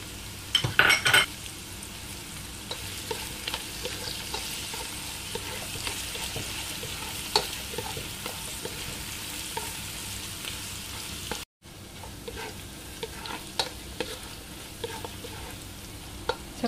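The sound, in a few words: ginger added and sautéed, stirred in a pan for papaitan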